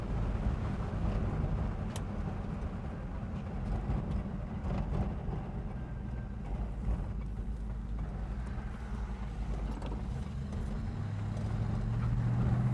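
A 1970 Oldsmobile Cutlass drives along with a steady low engine rumble and road noise, buffeted by wind against the microphone, no talking heard.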